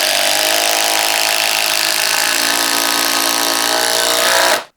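A compact Flex impact driver drives a 3 1/8-inch GRK screw in one loud, continuous burst of rapid hammering that runs nearly five seconds before cutting off sharply.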